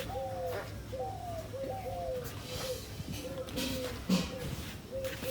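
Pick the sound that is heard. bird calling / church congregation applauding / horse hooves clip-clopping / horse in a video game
bird calling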